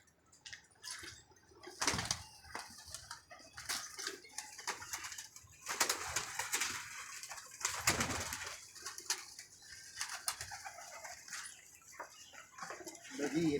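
Pigeons coo softly at a distance, with scattered calls, wing flaps and clattering knocks spread over several seconds in a quiet space.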